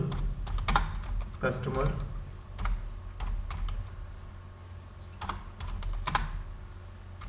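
Computer keyboard typing as an SQL UPDATE query is entered for a MySQL database lesson, with bursts of clicky keystrokes and pauses, close and moderately loud, someone speaking Hindi over parts of it.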